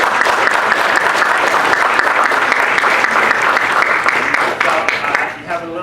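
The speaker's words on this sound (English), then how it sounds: "So let's give one more round of applause." A room full of people at a student leadership workshop claps steadily and loudly, the applause holding for several seconds before tapering off, with a voice coming in at the end.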